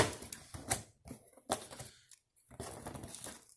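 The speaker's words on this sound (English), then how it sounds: "Gotta cut this open." A blade slices through a cardboard box in close, scratchy bursts with brief gaps, ripping and tearing sounds up close.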